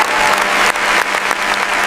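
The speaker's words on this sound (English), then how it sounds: "People stood and applauded as Abraham Lincoln arrived." A theatre audience stands and applauds the arrival of Abraham Lincoln, dense, loud continuous clapping from many hands filling the room.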